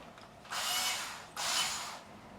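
Two bursts of a power screwdriver backing out screws from the rear panel of a Peavey 6505 MH mini amp head, each whirring run about a second long and close up, with a brief pause between them.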